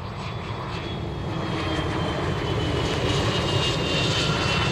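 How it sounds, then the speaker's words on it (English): A NetJets Challenger business jet arriving at Cleveland Hopkins airport produces a steady aircraft engine roar that swells slightly, heard from a distance with no talking. "Got a NetJets Challenger inbound from Lexington."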